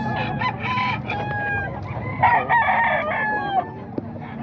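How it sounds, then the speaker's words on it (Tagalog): Many chickens cluck loudly and continuously nearby, with a rooster crowing through the middle of the stretch. "Ang dami nilang manok"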